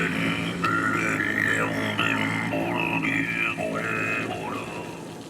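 Sardaukar Chant vocal drone: a continuous low, grainy growl with buzzing layered overtones and shifting harmonic tones above it, dense and steady throughout.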